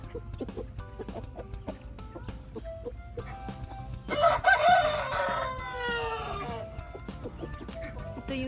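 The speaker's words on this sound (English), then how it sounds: "Ito yung super cute na bantam namin dalawa." Bantam chickens cluck softly on a farm, then a rooster lets out a loud, close crow midway, followed by quieter scattered clucking and pecking.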